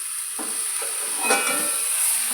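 Mixed vegetables, boiled beforehand, frying in a pan, heard as a soft, steady hiss and sizzle with a few faint stirring scrapes and no talk.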